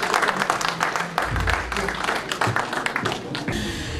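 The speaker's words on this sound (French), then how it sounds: "On va applaudir pour maman Julie un moment." Audience applause at a campaign launch event for Félix Tshisekedi in Canada, a steady mass of clapping from a crowd with some voices mixed in, fairly loud throughout.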